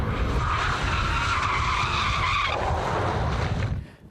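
An Aston Martin V12 Vantage driven hard on a cordoned-off route, tires skidding and squealing over a loud, steady engine roar that continues for several seconds before fading slightly at the end.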